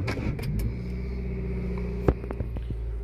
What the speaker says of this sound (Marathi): आता मी एसी चालू करण्यासाठी गाडीचं इंजिन स्टार्ट करतो।